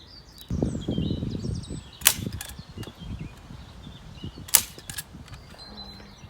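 A staple gun fires two sharp, close snaps a couple of seconds apart while fastening folded plastic sheeting on a hoop house, with rustling and handling noises in between.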